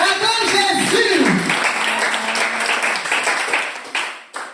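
A church congregation applauds and claps to acclaim Jesus during a testimony, a dense wash of clapping that stays steady, with a voice speaking over the start and a few sharper claps near the end.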